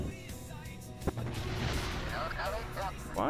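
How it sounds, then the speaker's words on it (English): Rocket stages decouple with explosions in the video game Kerbal Space Program: a sharp bang near the one-second mark, then a sustained roaring, crackling rumble, with a voice speaking over it. "Why does this decoupling always result in explosions, I wonder?"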